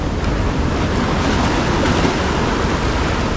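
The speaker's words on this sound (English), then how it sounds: "Man, the ocean's raging, eh?" Raging ocean surf on the Northern Beaches, a loud, constant roar of crashing waves with heavy wind, close and unbroken.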